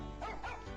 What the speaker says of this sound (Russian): Это наша собака Барт.